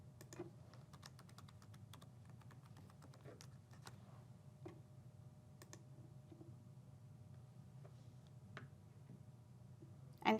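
Typing an SMS code on a computer keyboard, a sparse series of soft, close key clicks scattered irregularly over about ten seconds against a faint low room hum.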